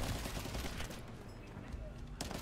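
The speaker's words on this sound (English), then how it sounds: "I'm trying to shoot the sniper, but my gun's not staying here" Rapid gunfire from a shooter video game, steady bursts of shots running almost the whole time at moderate loudness, mixed with game noise and a voice talking over it.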